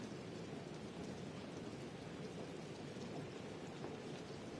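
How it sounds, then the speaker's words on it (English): Rain falls steadily in a football video game, a constant dense hiss with low rumbling underneath and no voices. "The rain set to continue as we are underway in the second half."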